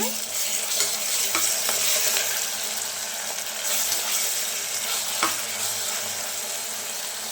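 A spoon stirs a paneer biryani mixture in a hot pan, a steady sizzle running underneath with a few sharp scrapes and clinks of utensil on metal, no talking.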